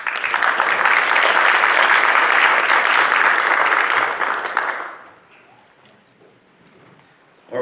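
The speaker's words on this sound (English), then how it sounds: "Give them a round of applause." Audience applause for a company taking the stage at a business pitch competition, loud steady clapping for several seconds that quickly dies away into near silence.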